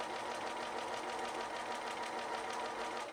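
A sewing machine runs fast and evenly, top-stitching binding close to the edge of a quilt with a scalloped border, its rapid needle chatter steady and close with no talk.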